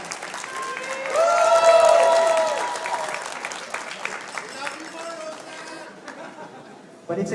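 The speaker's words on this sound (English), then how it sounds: "Let's give her a round of applause" An audience at a website launch applauds, clapping swelling to a peak early and then thinning into scattered claps and crowd chatter before a voice returns.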